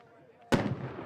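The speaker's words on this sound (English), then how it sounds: "As soon as the cannon went off" A cannon blasts once at a high school varsity football game, Holbrook vs Sanders, a sudden loud boom after quiet announcer talk, then a rolling echo and crowd noise.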